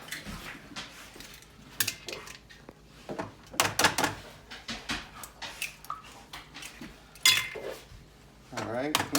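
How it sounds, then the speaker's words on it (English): Eggs cracked into a hot pan over medium heat: sharp taps and clinks of shell and cookware, then scattered knocks and a soft sizzle, close by amid intermittent talk. "We're going to go ahead and crack the eggs."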